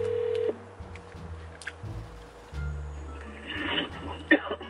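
Telephone keypad tones sound while a call is placed: a sequence of short, steady electronic beeps at low volume over faint background noise.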